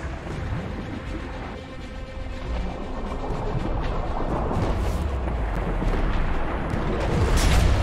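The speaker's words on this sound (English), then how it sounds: "That's the rocket." Rocket blast in the Biomutant action game: a sustained roaring, crackling barrage of explosive noise that builds steadily louder over several seconds, with dense rumble and debris-like crashes throughout.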